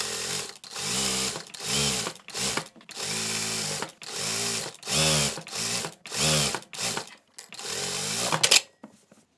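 A sewing machine stitches a hoodie in about eight close, loud runs of rapid whirring, each lasting around a second, with short pauses between them.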